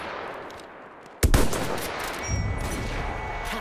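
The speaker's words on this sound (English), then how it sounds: "Enemy machine gun." Machine gun fire in the video game Battlefield 1 erupts suddenly after a quiet ambient bed, a loud burst followed by continued dense gunfire and battle noise.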